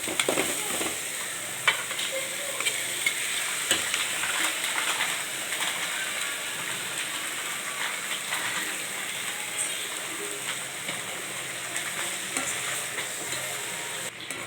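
Black nightshade (manathakkali) greens sauté in a hot pan with sambar powder, giving a steady, close sizzle and fry hiss with scattered stirring scrapes, unbroken throughout and with no talking.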